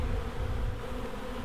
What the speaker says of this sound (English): Got a few bees on there.